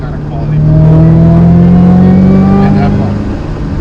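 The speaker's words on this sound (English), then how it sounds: "what you hear more than the exhaust is the whine of the supercharger" A Ford's supercharger whines over the exhaust as the car revs, a rising steady tone held for several seconds under a loud engine drone, with voices talking alongside.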